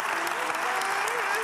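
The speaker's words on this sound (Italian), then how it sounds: "Facciamo un applauso anche sì" A TV studio audience at a Telethon broadcast claps in a dense, steady burst of applause, loud and continuous from start to finish, with a voice faintly audible beneath it.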